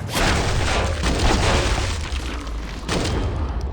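A shotgun fired from the hip in a first-person shooter game, loud booming blasts with a dense, sustained roar and a fresh heavy burst near the end.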